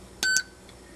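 A dog training collar gives one short electronic beep, a clear high tone lasting a fraction of a second in an otherwise quiet room.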